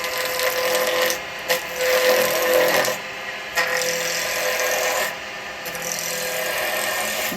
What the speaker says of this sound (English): I'm going to turn my lathe on, okay, and I'm just going to have a little play